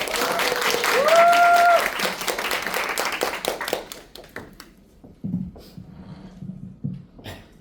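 Audience applause welcoming a speaker onto the stage at a business seminar, loud clapping for about four seconds that thins out and fades, followed by a low hum of the room and a brief voice.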